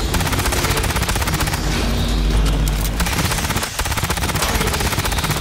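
Continuous rapid gunfire from a firearm in the video game Aliens Fireteam Elite, loud and dense bursts running almost the whole way through with a brief dip near the end.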